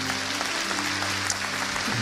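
A church congregation applauds during a Portuguese-language sermon, a steady wash of many hands clapping for two seconds over a low constant hum.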